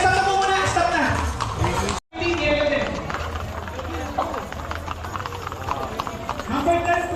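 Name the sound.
horses running in a race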